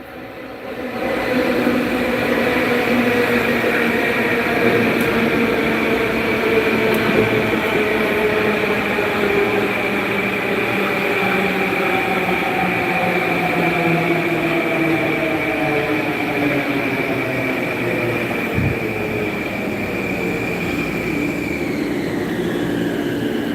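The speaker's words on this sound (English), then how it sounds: "Train to Fort Washington is now arriving on platform." A train rolls in with a steady metallic rumble and whine, gradually slowing along a platform, loud and continuous throughout.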